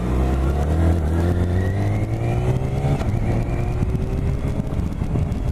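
A 2018 BMW K1600 GT six-cylinder touring motorcycle engine drones steadily while riding, its pitch rising smoothly through gears with a continuous close-up hum and some wind noise, no voices.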